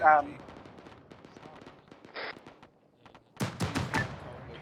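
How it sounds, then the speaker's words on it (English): Grenade machine gun fire in the military video game Arma 3, heard as a burst of several sharp, rapid thumps near the end after a stretch of quieter radio chatter and talk. "Believe that's GMG. Can hear the thumps coming from the east."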